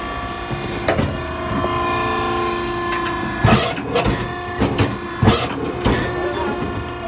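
A Maren baler machine crushes material with a steady mechanical drone, broken by several loud creaking, cracking bursts as the load compresses, heard close and alone.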